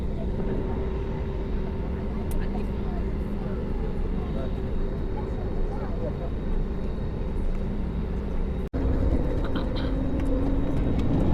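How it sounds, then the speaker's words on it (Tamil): A passenger jet speeds down the runway for takeoff, its engine roar loud and continuous from inside the cabin, with a brief dropout near the end. "டேக் ஆஃப் பண்ணுறதுக்காக செம்ம ஸ்பீடில் போயிட்டுருக்கு"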